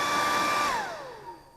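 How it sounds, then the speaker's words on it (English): A heat gun or air dryer blows steadily while drying a clear poly varnish coat on a fishing lure, then its whine drops in pitch as it winds down. "take your heat gun or your air dryer, whatever you got, and just dry it up."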